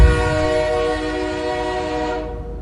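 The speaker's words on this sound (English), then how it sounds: "Every time I hear the sound of a train whistle now" A train whistle sounds as a loud, sustained multi-tone chord that holds steadily for over two seconds, then tapers off at the end over low rumble.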